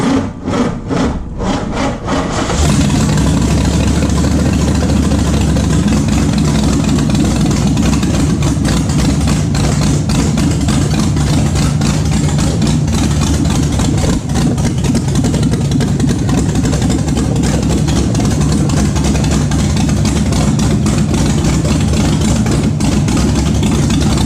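A gasser car engine fires up after a few sputtering cranks and settles into a loud, steady, rough idle that runs unbroken and close up while its fuel pressure regulator is tested.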